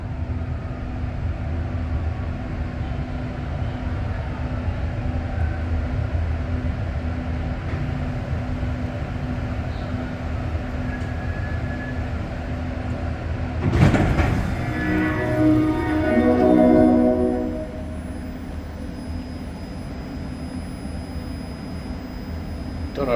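A REM light metro train rides early and quietly toward Brossard Station near Île des Sœurs, with a steady low rolling hum throughout and a brief louder burst of rattling and squealing midway before settling back.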